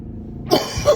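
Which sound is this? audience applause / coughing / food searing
coughing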